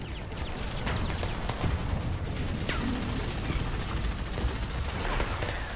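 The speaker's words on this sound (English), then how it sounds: "Gunfire erupts all around the ruins." Gunfire crackles around ruins in the Girl's Frontline video game, a dense, continuous fusillade of rapid shots and bursts that stays steady and fairly loud throughout, with no voices.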